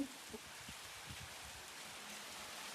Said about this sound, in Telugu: హెవీ రెయిన్ అయితే పడతా ఉంది